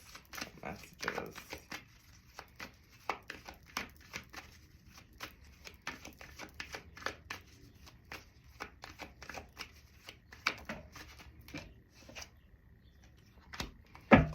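Tarot cards are shuffled repeatedly in quick, crisp riffling bursts, close and fairly quiet, with short pauses between rounds and a sharper clack near the end.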